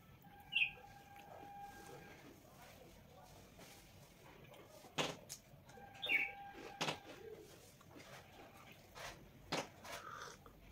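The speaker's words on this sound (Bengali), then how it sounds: "এই মাত্র এইখানে বিস্কুটের গুঁড়ো দিয়েছি, আর পাখিগুলো এসছে খেতে" Faint, sparse bird chirps and brief wing flutters at a quiet spot where small birds eat biscuit crumbs, with occasional clicks and little other activity.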